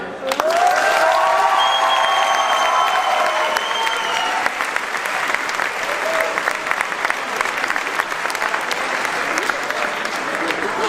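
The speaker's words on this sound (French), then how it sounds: "Nous vous demandons de faire un tonnerre d'applaudissements" An audience at a dental school gala show in Strasbourg applauds, loud dense clapping that thins gradually, with a few cheers and voices mixed in early on.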